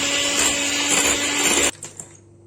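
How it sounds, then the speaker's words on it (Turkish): An electric hand mixer whisks eggs for a chocolate cake at steady high speed, a loud continuous whirring that cuts off abruptly near the end, leaving a brief quieter clatter. "Şimdi çırpma işlemine devam edeceğim. Dediğim gibi kıvamı alana dek çırpacağım."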